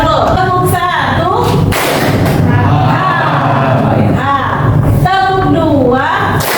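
A class of students claps together in a rhythm game, sharp group claps landing a few times between a teacher's spoken instructions.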